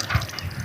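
Water gushing from a village hand pump tap in cool shade, a short steady splashing flow with no talk over it.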